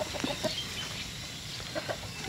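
Chickens and a rooster clucking in a farmyard flock, a few short scattered clucks at moderate distance over a steady outdoor background, no talking.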